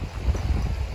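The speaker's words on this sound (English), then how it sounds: "It's very windy over here," Gusty wind at a beach rumbles across the microphone in uneven low bursts, continuous and moderately loud, with no one talking.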